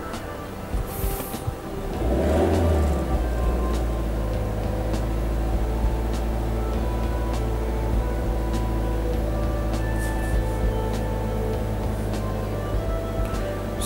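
A Ford car engine starts up and settles into a steady, low idling hum while warming up for DPF regeneration, holding on for a long stretch, near and constant.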